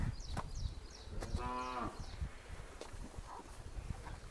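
A Hallikar bull calf, about a year old, gives one clear drawn-out moo lasting about half a second, close by amid faint outdoor background noise.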